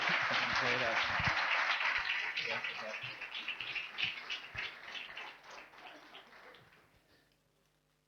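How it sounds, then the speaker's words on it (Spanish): A church congregation claps loudly at first, the dense applause gradually thinning and fading to near silence by the end. "lo recibimos con un fuerte aplauso"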